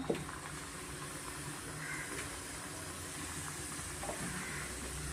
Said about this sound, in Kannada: ಇವಾಗ ಕರ್ಜಿಕಾಯ್ದು ಎಣ್ಣೆಯಲ್ಲಿ ಎಣ್ಣೆ ಕಾಯಿಸ್ಕೊಂಡು ಸ್ವಲ್ಪ ಮೀಡಿಯಮ್ ಫ್ಲೇಮಲ್ಲೇ ನಾನು ಕರ್ಕೊತಾ ಇದ್ದೀನಿ